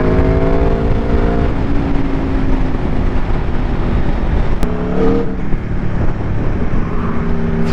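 A 2024 Aprilia Tuono V4 1100 Factory motorcycle's V4 engine pulls hard on a test ride, a loud continuous drone whose pitch climbs and shifts through gear changes, mixed with heavy wind rush.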